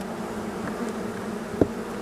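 Honey bees buzz steadily at an open hive during winter inspection, a continuous close drone with a brief louder knock partway through.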